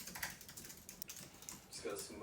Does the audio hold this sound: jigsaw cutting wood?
no